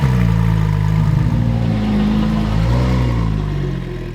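A car engine starts remotely after a built-in wireless jump start triggered from the key fob. It settles into a loud, close, steady idle with a brief rev, then fades slightly.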